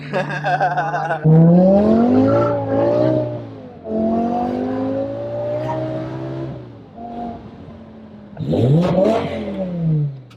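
A turbocharged BMW E36 drifts with its engine revving hard, rising and falling pitch sweeps and surges, loud and close from inside the car, with tyre noise in places.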